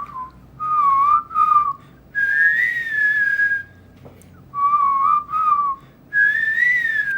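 A person whistles a bright, sustained melody, the song's intro line, in several phrases separated by short pauses, clear and close with no talking.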